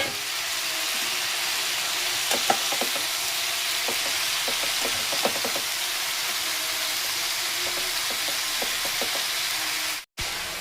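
Washed cauliflower florets fry in a pan, giving a steady close hiss of sizzling with scattered soft clicks and crackles throughout and a sharp break near the end; no one speaks.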